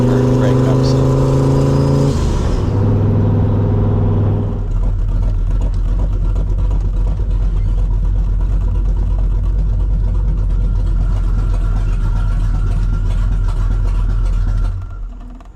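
A turbocharged small-block Chevy engine in a C3 Corvette runs rough on a test drive, with a loud droning drone and uneven breakup and sputter throughout, the note shifting pitch early on before fading near the end.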